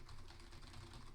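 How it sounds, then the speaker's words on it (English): Quick, fairly even keystrokes rattle on a ROCCAT Magma Mini 60% membrane gaming keyboard, a steady run of soft, close clicks with no talking. "now you can hear what this membrane keyboard sounds like"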